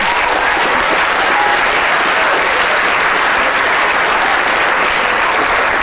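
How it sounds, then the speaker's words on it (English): A studio audience gives Amy a steady, dense round of applause, loud and close, holding evenly throughout with no talk over it. "Applause for Amy, please"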